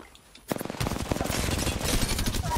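Rapid automatic gunfire in the Apex Legends battle game bursts in after brief quiet, a fast, dense stream of close, loud shots that continues to the end.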